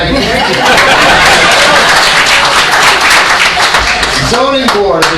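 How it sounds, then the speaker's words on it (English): An audience at a township council meeting claps together in a dense, steady burst of applause that fills the room, with chatter and a few laughs mixed in and talk rising near the end. "we're still going to clap together"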